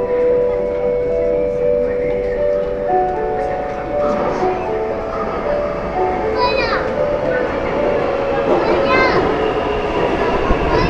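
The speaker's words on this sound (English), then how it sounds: "The train is about to arrive." A Taipei Metro train rumbles into a station, with rail squeals and a short chime melody, while people and children talk nearby.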